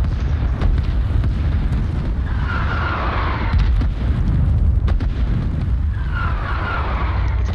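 Artillery barrage explosions in the video game Rising Storm, set in an attack on Saigon: a sustained, dense rumble of heavy blasts and booms, loud and continuous, with scattered sharper bursts over roughly eight seconds.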